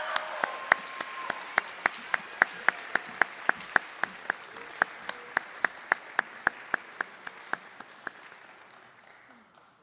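Moderate applause from an audience at a high school senior honors ceremony, with one loud, regular clapper standing out over the softer crowd clapping before it fades out.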